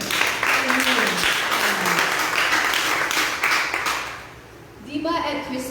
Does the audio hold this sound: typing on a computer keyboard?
no